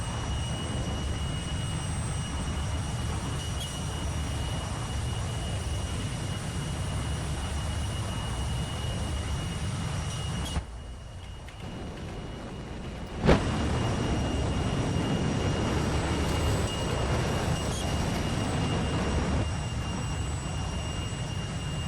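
A jet aircraft with afterburner flies in a flight video game, giving a steady, loud engine roar that dips briefly and then returns stronger with a sharp click, with no talk.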